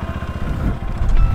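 A motorcycle being turned around gives a brief, close, loud low engine thrum with a pulsing idle rhythm, lasting just over a second.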